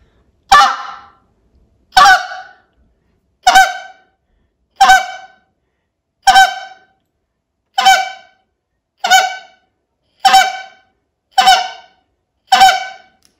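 A goose call blown by a caller, its reed rolled over to shift the note, gives ten evenly spaced loud honks about one and a half seconds apart, each a sharp nasal blast with a short tail, alone with no talk.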